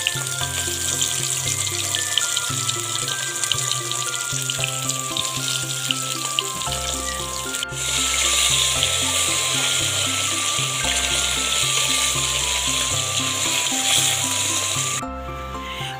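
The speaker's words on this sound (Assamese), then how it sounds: "এইফালে মাছকেইজনী আগে ভাজি লৈছোঁ।" Whole fish frying in hot oil in a home kitchen, a steady loud crackling sizzle that runs unbroken, with a brief clatter near the middle and another toward the end.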